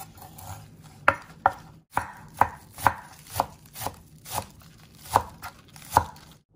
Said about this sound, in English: chop some green onions and cilantro